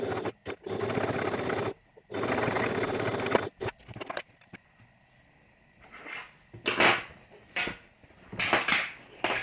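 A sewing machine stitches a cartoon bag in two short whirring runs, followed by lighter clicks and handling of fabric and parts nearby.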